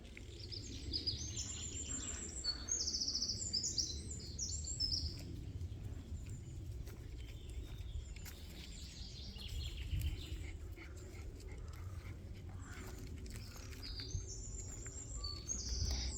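Birds chirp and sing in a fern-filled forest, small bright calls scattered through the clip over a steady low rumble of ambient background.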